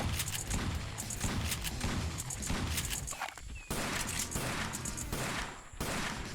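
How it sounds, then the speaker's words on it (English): Rapid, continuous gunfire from a hunting video game set in Africa, a dense stream of shots with only a brief lull partway through, loud and close. "Non-stop shooting"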